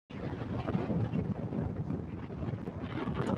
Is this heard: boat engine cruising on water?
yes